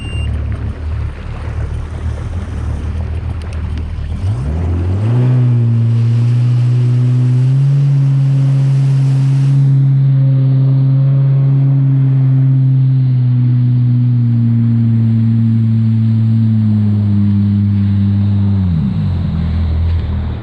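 An old Yamaha GP waverunner engine roars loud and close on a test ride, its steady drone rising to a sustained high-revving whine for over ten seconds before dropping away, with wind and water rushing throughout.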